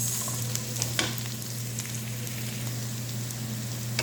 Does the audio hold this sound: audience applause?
no